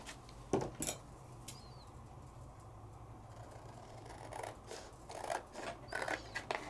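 Scissors trimming red and brown scrapbook paper by hand, faint close snips in a few quick bursts, with soft paper rustling between cuts in a quiet room.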